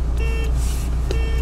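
Two short tonal car-horn honks sound as the start signal at a 4x4 off-road drag race with Toyota, UAZ, Niva and other trucks, heard over a steady low rumble of idling engines.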